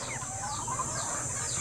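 Chickens cluck and murmur together nearby at feeding time over a steady high-pitched outdoor drone, with no voices.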